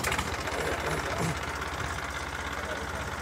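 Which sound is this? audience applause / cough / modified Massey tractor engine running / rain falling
modified Massey tractor engine running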